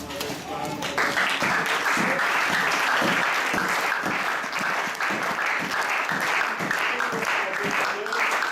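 Church congregation at a Portuguese and Lingala service breaks into sustained loud clapping, a continuous dense roar of hands with voices mixed in underneath.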